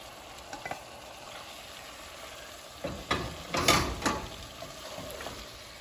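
Udon noodles dropping into a pot of sauce at a boil, a few splashy bursts and a clattering stir cluster in the middle over a steady low simmer, fairly quiet and with no voices.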